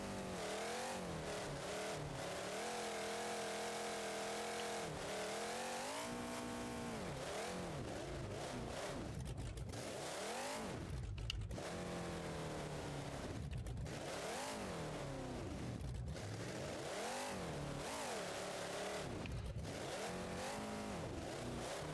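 A monster truck on a Bigfoot chassis with quad cantilever suspension revs hard in BeamNG.Drive, its engine continuously loud and roaring with repeated rising and falling sweeps as the throttle is stabbed and released.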